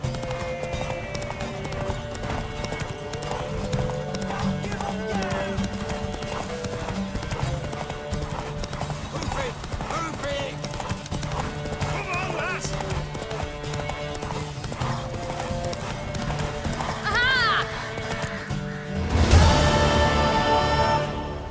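Horses in The Witcher 3 gallop with continuous rapid hoofbeats under game music, and a loud whinny and surge of noise near the end.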